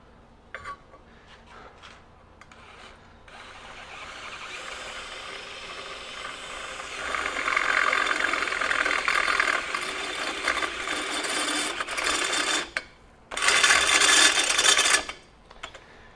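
A DeWalt DCD794 Atomic 20V brushless stubby cordless drill, run at partial throttle, bores with a step bit, giving a grinding, rasping whir that builds steadily, holds for several seconds, stops briefly, then returns in a loud final burst.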